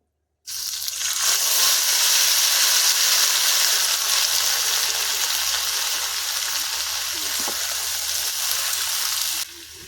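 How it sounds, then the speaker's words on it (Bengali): Kochu loti, taro stolons, dropped into hot oil with dried chilli, a sudden loud burst of bright hissing sizzle that settles into a steady close frying crackle, then cuts off. "আমার তেলটা হয়ে গেছে, আমি এবার কচুলতিটা দিয়ে দিচ্ছি"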